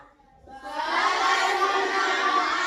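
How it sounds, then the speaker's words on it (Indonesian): Applause and cheering from a class of seventh-grade students in a classroom, swelling after a quiet start into steady, loud clapping and voices. "Kasih aplaus sekali lagi"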